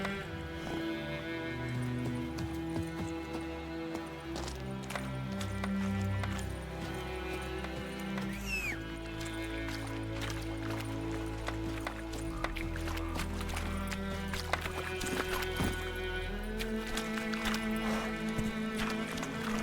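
A horse gallops in The Witcher 3: Wild Hunt, its hooves pounding in a quick, even rhythm over a bed of orchestral game music, with a brief snort and some faint ambient effects.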